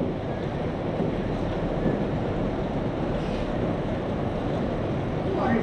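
Strong wind and heavy rain storm lashing a small courtyard home in Beijing, a constant loud broadband roar of gusts and downpour with no clear breaks, close to the microphone and alone.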